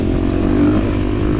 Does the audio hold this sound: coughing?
no